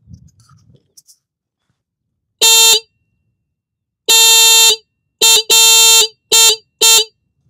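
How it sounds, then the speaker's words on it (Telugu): A SATHI electric bike horn sounds in six sharp, loud electronic blasts, one short, one long, then a quick cluster of four, with silence between them. "ఒకసారి మనం ఈ సాతి వెహికల్ యొక్క హారన్ అయితే చెక్ చేద్దాం."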